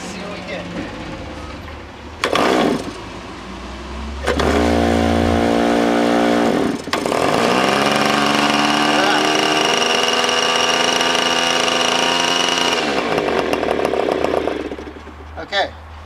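A nitro glow engine on an RC P-51D Mustang model plane sputters briefly, then catches and runs in a loud, high buzzing whine for several seconds before cutting out. A short second burst follows, and a voice speaks between the attempts.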